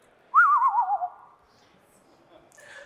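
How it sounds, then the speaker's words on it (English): A synthesized bird sound from a generative audio system: a single warbling, wavering whistle-like call lasting under a second, clear and isolated against near silence, followed by a faint trailing chirp. "we generate bird sounds with this that are dramatically different from the kinds of recording-like bird sounds"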